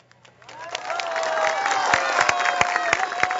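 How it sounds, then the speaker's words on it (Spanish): Crowd applause for a minister at a public ceremony launching road conservation works: clapping swells in over the first second and continues steadily, with a voice or tone running faintly underneath and murmurs of the crowd. "pido un fuerte aplauso también para nuestro ministro Gallardo"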